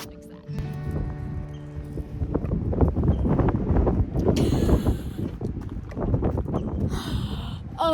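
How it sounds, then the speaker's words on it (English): Wind gusts across a chilly Grand Canyon campsite, a steady broadband rush with rumbling buffets against the microphone that persist for the whole stretch, with a brief hum and a faint voice near the start. "It is still pretty windy and it is about 50 degrees, so it's pretty chilly."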